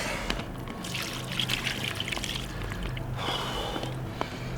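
Water trickles and pours over a 46.5-pound mirror carp landed on the bank, a faint continuous splashing and dribbling with a few soft sniff-like noises, no talk.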